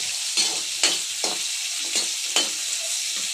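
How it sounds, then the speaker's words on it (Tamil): Onions sautéing in a pan while cooking a fennel chutney: a steady, close sizzle with about six rhythmic scraping strokes of a spoon stirring through it, no voices. "வெங்காயம் நல்லா வதக்கிக்கோங்க."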